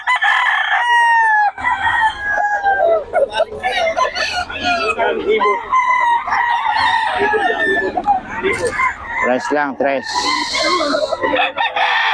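Roosters crow repeatedly at a busy outdoor poultry market in Bocaue, several overlapping calls near and far, mixed with clucking while people talk and bargain close by.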